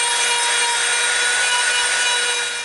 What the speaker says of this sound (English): we're going to get our super rough Dremel bit and we're going to tear these squares up so we can get down to the raw foam